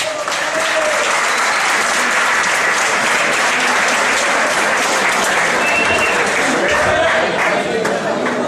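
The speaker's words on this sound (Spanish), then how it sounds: "para quien pide un aplauso, Eric el Tigre Castaño." Audience applause for a world boxing champion and trainer, with full, sustained clapping from a large crowd that stays loud throughout, with occasional faint voices within it.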